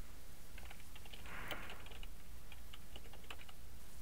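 Fast, frantic clicking on a computer keyboard runs continuously under steady background noise, close up, with a brief louder flurry of keystrokes partway through.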